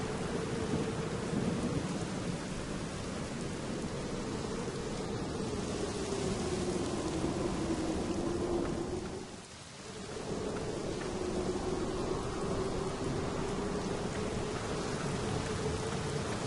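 Steady heavy rainfall with a low rumble of thunder rolling underneath, continuous and enveloping, briefly dipping quieter midway before the downpour resumes, at a sanatorium in the video game The Black Mirror.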